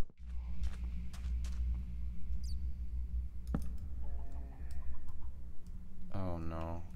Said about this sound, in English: I hear the baby chicken and the zombie